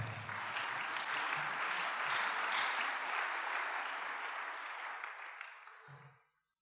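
Congregation applauding in a church, a sustained, dense wash of many hands clapping together that swells, holds steady, then tapers off and fades to silence near the end.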